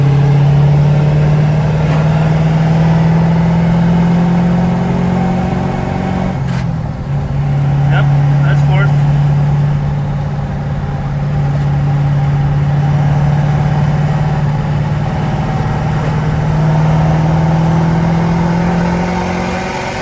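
A Ford 6.0 diesel pickup truck with its trailer unhooked, its engine droning loud and close as it pulls hard in third gear, the pitch rising and falling over a long run with a brief dip midway.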